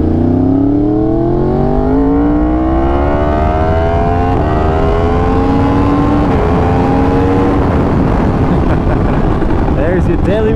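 A Yamaha R1 motorcycle engine revs on the open road, loud and close, its tone climbing steadily through the gears with brief dips at each shift and constant wind roar underneath.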